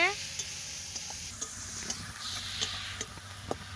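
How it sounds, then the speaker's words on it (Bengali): Spice paste with bay leaf, turmeric and chilli powder frying in a pan over a wood fire, a fairly quiet, steady sizzle with a few light ticks and spatters. "মশলাটাকে এবার খুব ভালোভাবে কষিয়ে নেবে"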